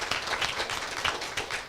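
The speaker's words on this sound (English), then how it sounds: "Round of applause." An audience at a medtech pitch competition claps together, a brief burst of scattered hand claps that stays fairly even.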